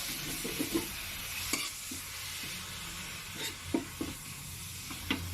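Food stir-fried in a hot wok with a continuous sizzle and repeated scraping and tossing strokes from a spatula, close and steady with no talking.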